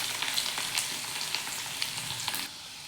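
Chopped garlic sizzles in hot oil with roasted cumin and a pinch of asafoetida, a steady close crackle with small pops and occasional stirring.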